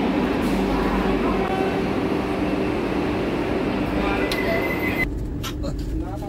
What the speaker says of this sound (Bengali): একদম নির্ধারিত সময় ছেড়ে দিল ট্রেন খড়গপুর স্টেশন থেকে